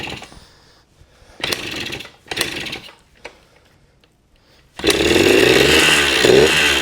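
Suzuki DS80 80cc two-stroke dirtbike engine: a few short sputtering bursts and pulls, then it catches and runs at a loud, steady buzzing idle close by.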